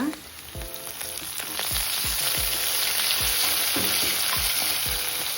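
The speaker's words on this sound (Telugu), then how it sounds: "పచ్చిమిర్చి కొద్దిగా వేగనివ్వాలి" Green chillies fry in hot oil for a village-style jowar semolina vegetable upma, with onion pieces nearby. A steady loud sizzle runs throughout, with soft low thumps from a spatula at irregular intervals.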